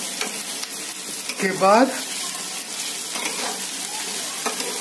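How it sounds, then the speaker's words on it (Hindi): Chicken and onions fry and get stirred in a pan, giving a steady sizzle with scraping stir strokes throughout, and a voice speaks briefly near the middle. "हिलाते रहेंगे जब तक कि थोड़ा थोड़ा लाल ना हो जाए"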